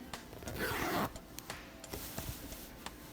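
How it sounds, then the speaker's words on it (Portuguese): An invisible zipper on a sewn blouse is drawn closed in one smooth rasping pull lasting about half a second, followed by faint ticks and light handling noises in a quiet room. "Vamos fechar o zíper para ver se ele ficou invisível."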